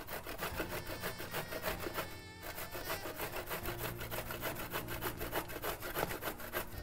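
A boiled palmyra sprout tuber is rubbed against a hand grater in quick, even strokes, a steady scraping rhythm that runs close and unbroken with no talk.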